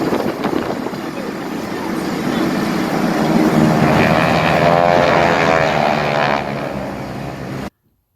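A propeller airplane flies by at the EAA AirVenture 2021 air show, its engine droning loud and rising in a steady roar before cutting off abruptly.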